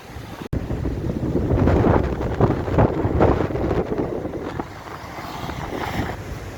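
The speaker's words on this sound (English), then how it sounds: "the wind's still raging outside" Strong wind buffets the microphone outdoors in Spain, a continuous roaring gust with rumbling low-end turbulence that swells and eases without pause, loud and close throughout.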